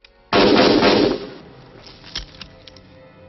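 A gunshot in a Vietnam War film: one sharp, loud blast that hits suddenly, then a rough, noisy burst that fades over about a second, with faint scattered clatter afterward.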